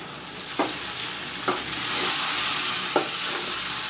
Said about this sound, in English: I'm frying the masala and the mutton very nicely.